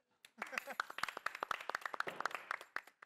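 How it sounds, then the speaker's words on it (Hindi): A few people clap in a family gathering, a quick irregular run of sharp hand claps lasting a few seconds, fairly close and quiet, with voices talking alongside. "अरे तालियां तो मार दो"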